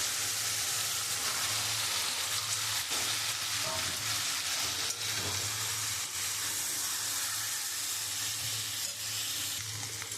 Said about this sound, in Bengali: এবার আমি চিংড়ি মাছটা দিয়ে আমি একটু কষাবো।